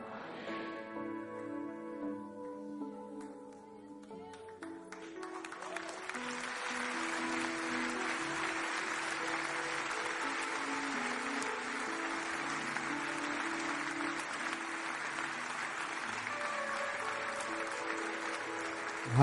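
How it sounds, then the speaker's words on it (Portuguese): A church congregation breaks into sustained applause that swells and holds steadily, preceded by a few seconds of quieter sound at the start. "Aplauda o Senhor Jesus Cristo, pois Ele é poderoso."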